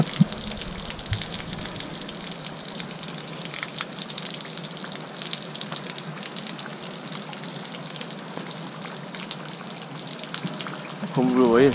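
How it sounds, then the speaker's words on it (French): A small waterfall at Pont des Tuves in Montauroux flows with a continuous broadband rush of falling water, moderately loud and even throughout, growing slightly stronger at the very end. "Alors voici cette petite cascade."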